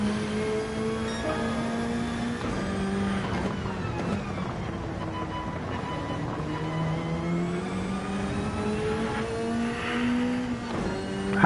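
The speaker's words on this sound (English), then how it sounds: "I hit the rev limiter" Simulated GT3 race car engine in Gran Turismo 7 at Bathurst, a loud continuous drone whose pitch climbs and falls as it revs repeatedly, bouncing against the rev limiter.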